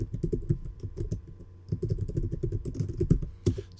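Steady typing on a computer keyboard, with quick bursts of close, crisp keystrokes and a brief pause partway through, no talking.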